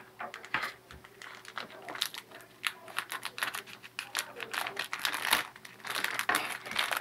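Plastic wrapping on doll packaging crinkles and rustles continuously in close, irregular bursts as the box is opened, with faint clicks and taps between the crinkles.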